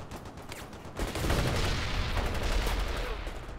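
Sustained gunfire from the World in Conflict Soviet Assault campaign: a quieter opening, then from about one second a dense, continuous fusillade of machine-gun and rifle fire with heavy low rumble, loud and unbroken to the end.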